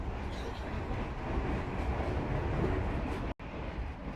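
Steady rumbling roar inside an executive carriage of the KA Dharmawangsa train, continuous rolling wheel and rail noise filling the cabin, with a brief sharp dropout near the end.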